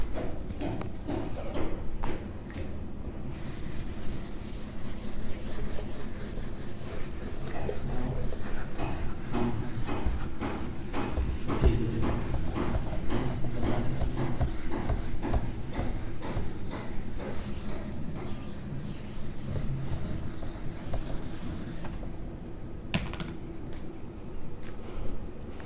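Writing is rubbed off a classroom board during a maths lesson: a long, continuous dry scrubbing with scattered knocks and scrapes, moderately close, with no speech.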